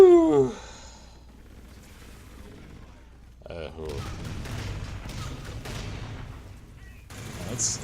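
Sidearm pistol fire in the sci-fi shooter Call of Duty: Infinite Warfare, including a reverse-loaded space Glock. Several sharp game shots crack in quick bursts over ambient game noise, with a brief vocal sound near the start.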